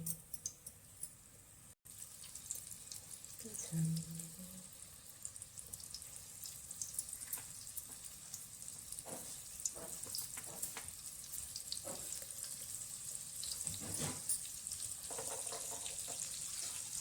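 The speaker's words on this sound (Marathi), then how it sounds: "आता एक एक तेलामध्ये सोडून घेऊ" Bombay duck (bombil) fish frying in oil on a tava, a steady sizzle with brief clinks and a few louder pops as pieces go in, no one talking.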